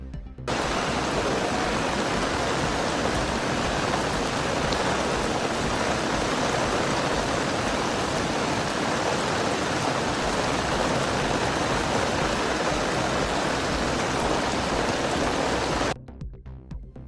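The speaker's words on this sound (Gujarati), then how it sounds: "કોઝવેની સપાટી 6 ફૂટ ઉપરથી વહી રહી છે" The swollen Tapi river pours over a causeway in heavy rain, a dense, steady roaring rush of water that stays constant and loud throughout with no voices.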